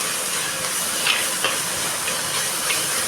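Sliced onions fry in oil in a clay kadai with a continuous close sizzle and hiss, broken by a few faint stirring scrapes.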